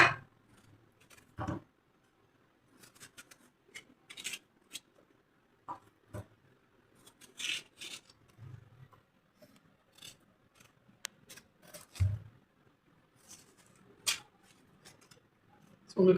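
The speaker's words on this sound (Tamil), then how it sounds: "ஸோ எனக்கு வந்து கத்தியில் நறுக்கி பழக்கம், ஸோ அதனால் நான் அப்படி கட் பண்ணுறேன்." A knife cuts watermelon into small cubes, making scattered soft taps and crisp slicing clicks at an irregular pace, close and fairly quiet, with a few brief thumps.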